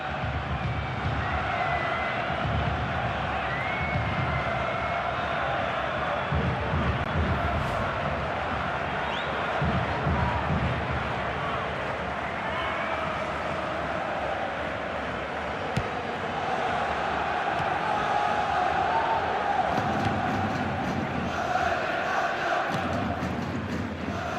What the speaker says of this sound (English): Oh, the crowd love that, you know.